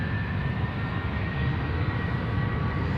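Ryanair Boeing 737-800 jet departing Amsterdam Schiphol for Dublin, a continuous dense engine rumble with a faint high whine, steady and moderately loud at a distance, no voices.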